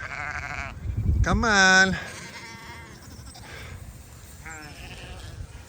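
Farm sheep bleat loudly at close range in a few wavering cries, with a fainter bleat later, while a person speaks briefly nearby.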